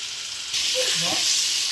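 Potatoes drop into a pan of sizzling ginger, garlic and tomato paste, giving a close, steady frying hiss that suddenly grows louder partway through.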